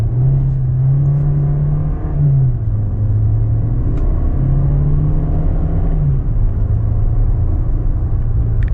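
A 2025 Volkswagen Taos S in manual sport mode accelerates hard in first gear from inside the cabin, its engine droning loud and rising in pitch, easing briefly, then climbing again.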